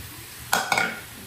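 Mango pieces tipped into a preheated pan, with two brief clattering, sizzling bursts around the midpoint followed by a short hiss that fades, close and fairly quiet.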